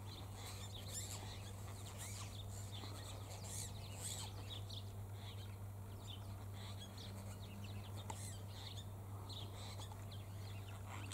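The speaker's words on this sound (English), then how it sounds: "They're apostle birds," Apostlebirds call outdoors, mixing with grey-crowned babblers in scattered chirps and harsh notes at a moderate distance, over a steady low hum.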